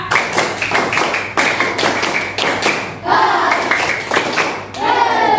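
A primary-school class claps together in a steady rhythm, loud and close, in sharp groups of hand claps with children's voices audible among them.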